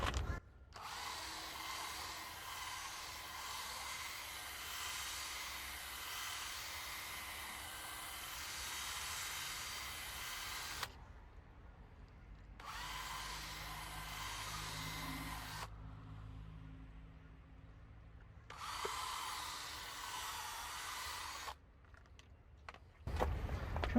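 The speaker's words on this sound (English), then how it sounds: "so while I have the drill out," A power drill bores into a metal bumper bracket for pop rivets on a 2005 Hyundai Tucson, whirring in several long bursts separated by quiet pauses, fairly faint and close.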